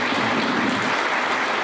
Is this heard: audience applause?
yes